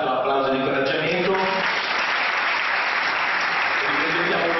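An audience at a Five Star Movement presentation event in Osimo, Italy, applauds in encouragement, with dense, continuous clapping that fills the room from start to finish and a voice faintly audible beneath it.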